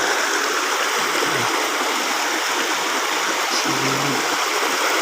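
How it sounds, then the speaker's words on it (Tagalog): A stream flows beside the listener in an even, full rushing wash of water, steady and close, with a couple of faint low knocks underneath. "sapa."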